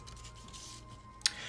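Scissors snipping paper around a printed butterfly on an altered vintage playing card, a soft, close rasp of cutting ending in one sharp snip, quiet and alone.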